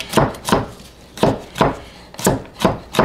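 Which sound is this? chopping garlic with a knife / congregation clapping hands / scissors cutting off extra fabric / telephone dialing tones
chopping garlic with a knife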